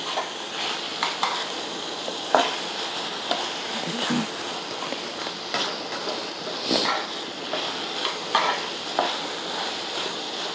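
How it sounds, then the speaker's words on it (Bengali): Small chicken pieces for gravy are stirred around a hot pan: a continuous loud sizzle of frying runs throughout, with irregular scraping and clacking strokes from the spoon at close range. "এই চিকেনটাকে এবারে নেড়ে চেড়ে নিচ্ছি"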